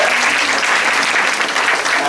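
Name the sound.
audience clapping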